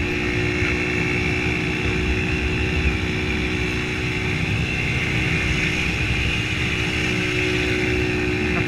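A 150cc carbureted motorcycle rides along on the road to Monte Verde, Minas Gerais, its engine drone steady and fairly loud with wind rush, running continuously without talk.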